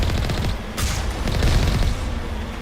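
Alliance turrets fire in Mass Effect, a dense burst of loud, close gunfire and impacts rattling over a couple of seconds in a combat scene.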